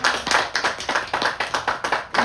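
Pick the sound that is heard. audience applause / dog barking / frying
audience applause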